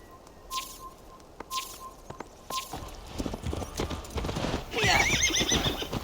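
A horse whinnies and hooves clip-clop in Assassin's Creed Valhalla, with a sharp high tone chiming a few times early on, then louder shuffling and a neigh near the end.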